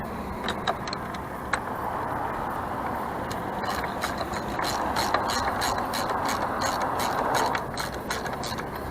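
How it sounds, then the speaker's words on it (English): A ratchet socket wrench clicks in quick repeated bursts while tightening a bracket on a Sea-Doo SPX GS 717 engine. The close, crisp pawl ticks sit over a low steady background hum with no talk. "Tighten this down. The socket's a little bit too short."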